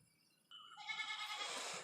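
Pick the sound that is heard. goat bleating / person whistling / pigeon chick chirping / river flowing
goat bleating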